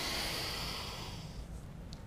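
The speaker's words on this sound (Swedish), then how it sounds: "Så tar vi ett djupt andetag in." A deep yoga inhale through the nose, a long airy rush of breath that fades out over about two seconds, heard close in a quiet room.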